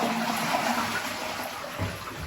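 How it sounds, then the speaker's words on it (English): A toilet flushes in a house with a drain problem, a steady close rush of water filling the short moment with no talking. "still doing that when I flush the toilets."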